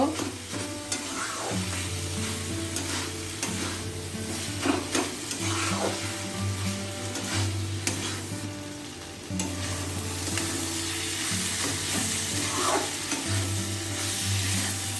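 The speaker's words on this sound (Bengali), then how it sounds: "গুড়টা জল ছেড়ে দিয়েছে জলটা টানিয়ে নেব" Bitter gourd with melted jaggery stir-frying in a pan as its water cooks off, a continuous close sizzle with repeated spatula scrapes and clinks, a low hum running underneath, no one speaking.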